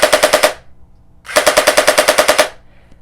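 A Faction Specter gel blaster fires on full auto in two loud, rapid bursts, a short burst followed by a longer one of about a dozen quick mechanical cracks, with a brief silent gap between them.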